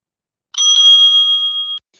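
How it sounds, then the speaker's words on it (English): A handheld bell rung by the timekeeper at a school debate gives a single bright, sustained ring of a little over a second, loud and alone against silence. "The timekeeper will ring the bell twice"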